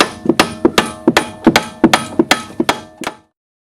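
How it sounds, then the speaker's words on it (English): A large hammer lightly taps the control arm of an Audi A4 B5 down into the spindle, about a dozen sharp metallic strikes in a steady rhythm, close and loud, then silence. "taking a large hammer and just lightly tapping on the top of this control arm"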